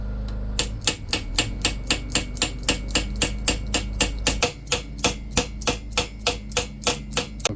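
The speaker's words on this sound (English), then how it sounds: "now we peen this one down." A hammer peens metal on a handmade knife, striking in a steady, even rhythm of about thirty sharp, ringing blows with no talking.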